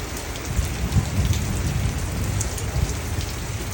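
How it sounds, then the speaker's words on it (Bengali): Heavy rain pours steadily while people shelter and wait in Singapore, a loud dense hiss of drops on surfaces with a low rumbling undertone, no voices. "এত বৃষ্টি হচ্ছে, আমরা এরকম দাঁড়িয়ে আছি বৃষ্টি শেষ হলে"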